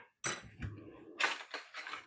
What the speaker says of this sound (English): I'm going to add it into our milk. And then I'm going to give this a nice stir.